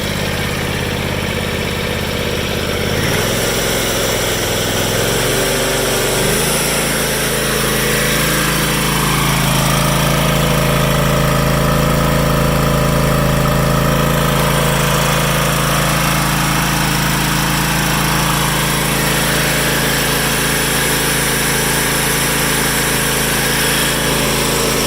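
A 2016 John Deere X570 lawn tractor engine runs loud and close, a steady, rough drone whose pitch shifts slightly at the start, then holds an even rumble without any talk.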